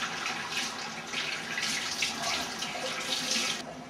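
Running tap water pours steadily into a kitchen sink while carrots are rinsed under it, a continuous close splashing hiss that stops abruptly near the end.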